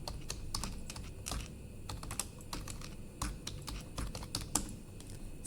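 Computer keyboard typed on steadily while form details are entered, a quick run of close, crisp key clicks at an even pace with a low background hum and no voices.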